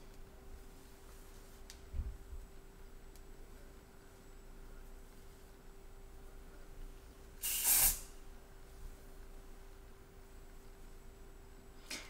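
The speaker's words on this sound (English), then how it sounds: "It's a super fine hairspray. So I'm just lightly spraying." Super fine hairspray misted lightly over short waved hair in one brief, fairly close burst of airy hiss about a second long, with a faint tap before it and quiet room tone elsewhere.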